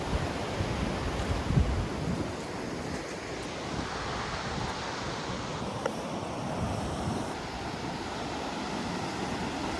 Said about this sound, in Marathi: पाठी घर आपला आणि समोर समुद्र किनारा